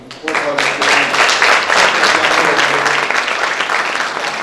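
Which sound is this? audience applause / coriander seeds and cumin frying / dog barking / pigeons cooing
audience applause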